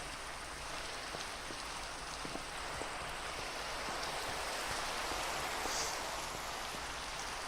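Steady rain in a Minecraft video game patters continuously, with soft scattered drops over a constant wash of noise, fairly quiet and even throughout.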